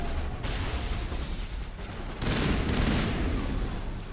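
Rapid gunfire from the player's gun in Mass Effect, a dense continuous burst of shots that swells louder midway, close and with no talking.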